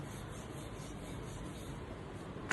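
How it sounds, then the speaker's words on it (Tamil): Tomato chapati dough being rolled out makes a soft, steady rubbing swish, faint and continuous, with no talking. "பாருங்க, மாவு அப்படியே அழகாக சுத்துது பாருங்க."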